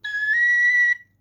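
A single sustained high note on an Elfsong Enchantress tin whistle played in the upper octave, bright and steady for about a second before stopping cleanly, close and alone.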